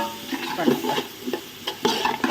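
Tomato and yogurt being stirred in a pan for chickpea biryani, with repeated close spoon scrapes and wet squelching over a light sizzle, no speech.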